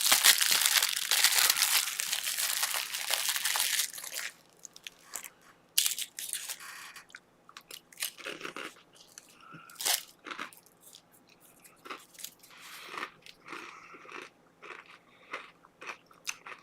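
Fortune cookie cracked open and eaten up close: a loud crinkling of the wrapper first, then sparse sharp crunches and chewing in a quiet room.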